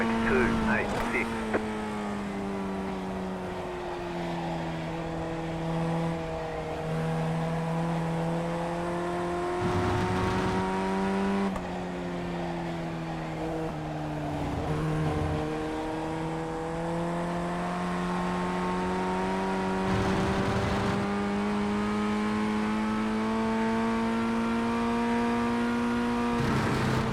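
Formula 1600 (FF1600) open-wheel race car engine on a hot lap of Lime Rock Park Classic in iRacing, a steady loud harmonic drone rising and dipping in pitch with gear changes and corners throughout, with a voice talking over it.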